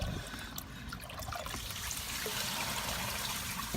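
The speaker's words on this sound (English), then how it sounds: "I'm just gonna pour some water in it before I get started" Water poured into a 1964 Standard Devoro baby toilet, a steady close trickle and splash running continuously without a break.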